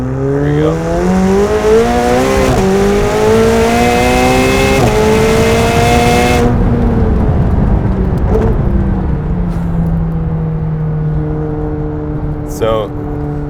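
A 2019 McLaren 720S pulls hard through its gears: a loud engine note climbs in pitch, drops briefly at each quick shift, then eases off toward the end.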